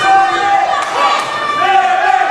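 A wrestling arena crowd chanting and cheering loudly at a live show, a sustained roar of many voices rising and falling in a rhythmic chant across the whole stretch.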